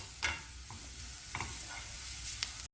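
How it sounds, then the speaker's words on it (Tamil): Cabbage and curry leaves being lightly stirred and sautéed in a pan, with a soft, steady sizzle and a few quiet scrapes of the spoon spaced across the moment. "முட்டைக்கோஸ், கருவேப்பிலை, லேசாக ஒரு பரட்டுனா போதும்."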